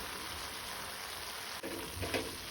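Cauliflower, carrot and beans sabzi fries softly in a pan, a faint steady sizzle with a brief scrape of stirring near the end.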